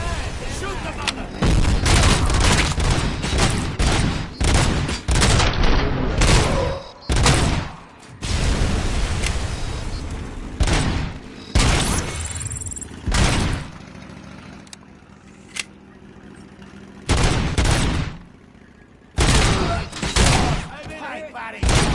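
Gunfire in a Robocop action scene: repeated loud bursts and booming shots in rapid clusters separated by short gaps, with someone shouting between volleys.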